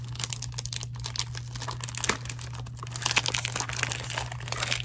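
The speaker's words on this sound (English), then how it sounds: "So let's open them up. So they're nicely wrapped in the saran wrap, and with the Serge Lutens sticker on top." Saran wrap crinkles and tears as it is pulled off Serge Lutens perfume boxes, a close, continuous crackling plastic rustle over a steady low hum.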